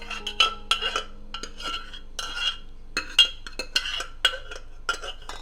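Cooked lentils (dal) mashed in a metal pot, with a series of sharp clinks and soft scraping strokes of a utensil against the vessel, close and fairly quiet, no talking.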